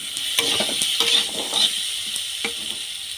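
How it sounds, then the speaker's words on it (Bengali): Potatoes fry in hot mustard oil with a steady close sizzle, broken by several sharp clinks and scrapes of a spatula stirring the pan. "আলুটা খুব সুন্দর করে ভেজে নেব"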